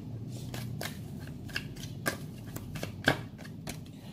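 Tarot cards being shuffled and drawn by hand, a string of sharp papery snaps and flicks spaced irregularly over a low background hum, close and fairly quiet, with no talking.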